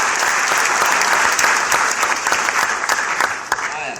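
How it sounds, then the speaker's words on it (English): An audience at a motivational talk breaks into loud, sustained applause, a dense wash of clapping heard close, with some cheering mixed in. "Let's give Guzman a round of applause."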